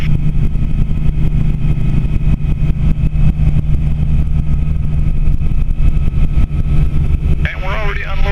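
A Bell 47 helicopter's piston engine drones loud and steady during a no-hover takeoff from a slope, a close, continuous throbbing hum with a brief voice near the end.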